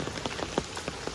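Rain patters in a Konkan village, with soft, irregular drops tapping a surface over a steady wash of falling water, brief and moderately quiet.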